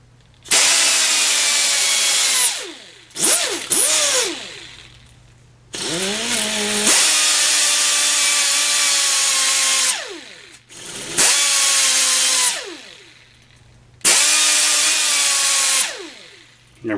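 A power tool fitted with a flat disc whines loudly in several long, sustained bursts as it smooths the edges of bolts during a Ford 390 engine rebuild. The pitch drops each time it spins down, with short pauses between passes.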